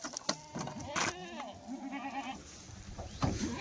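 Kathiawari goats bleat in a truckload of newly arrived animals, several wavering, close calls overlapping with crowd noise and voices in between.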